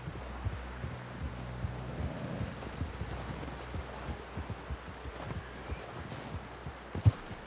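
Horse hooves clip-clop at a slow walk in the Red Dead Redemption 2 video game. The soft, steady thuds sit under a wind-like background and are faint throughout, with one louder knock near the end.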